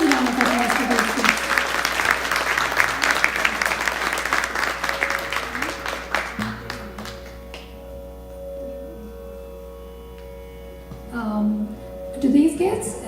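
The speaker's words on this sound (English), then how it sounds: "So please give another huge round of applause to those kids." An audience at a music academy fundraiser concert applauds the young performers: dense, steady clapping for about six seconds that thins and fades, leaving a low hum with a few scattered claps and faint murmurs near the end.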